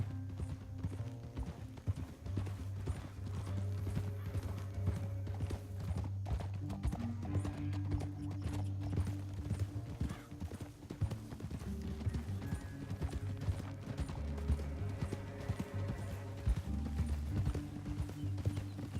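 Rhythmic clip-clop of horse hooves trotting steadily throughout in the video game Red Dead Redemption 2, set against a low droning musical background.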